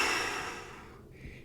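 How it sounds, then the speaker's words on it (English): A single deep breath fills the quiet: a breathy, hissing exhale that slowly fades away, taken during an indoor cycling strength workout. No one speaks. "I want you to breathe in through your nose and out through your mouth"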